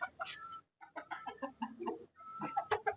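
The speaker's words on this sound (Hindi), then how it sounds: "और ये हमारा मुर्गा और ये मुर्गी।" A rooster and a hen cluck close by in short, choppy bursts of throaty calls, with a brief pause near the start and busier overlapping clucks toward the end.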